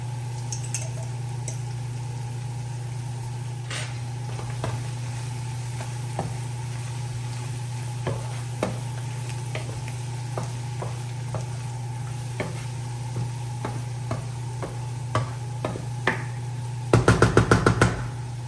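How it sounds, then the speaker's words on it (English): Sun-dried tomatoes dropped into a hot pan for Tuscan chicken pasta, giving a steady low sizzle with scattered soft stirring clicks and a brief burst of sharper scraping near the end. "Now I'm going to go ahead and add my sun-dried tomatoes"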